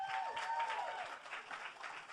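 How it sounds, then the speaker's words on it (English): Quiet, steady applause from an audience at the Grammy Museum before a live question-and-answer session, heard from a distance as a continuous soft patter with a faint whistle near the start. "You should save that applause because there's much better guys coming on stage."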